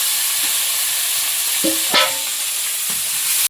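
Prawns and tomato go into hot oil in a wok over a village kitchen fire in the Sundarbans, giving a steady broadband sizzle of frying, with a few brief stirring clatters partway through.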